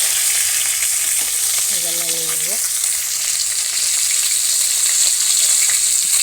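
Tilapia pieces fry in hot oil in a village kitchen, a steady close sizzle running throughout while someone briefly speaks over it.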